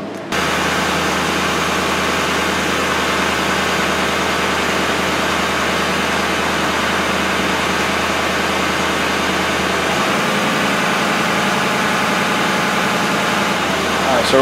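A Ford 6.7 Powerstroke diesel engine running at a steady idle-like drone with a low hum and broad hiss, loud and constant, with a slight shift near the ten-second mark.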